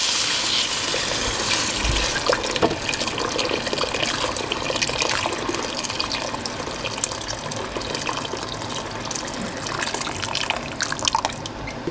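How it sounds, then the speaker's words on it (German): Water poured from a tap or jug into a cooking pot of vegetable stew with potatoes and carrots, a steady close gushing and splashing that runs continuously for about twelve seconds with no talk. "Jetzt auch schon mit dem Wasser aufgießen."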